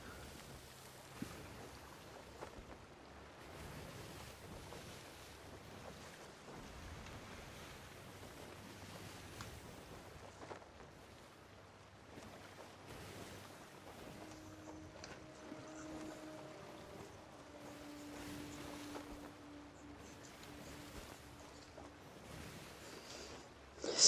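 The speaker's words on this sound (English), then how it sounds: "Sailing through the fog at full sail. It's probably not smart, but we are against the wind." Ocean waves and wind wash past a sailing ship at full sail in fog in the Sea of Thieves video game, a soft continuous rushing of water and air with faint creaks, steady and fairly quiet throughout.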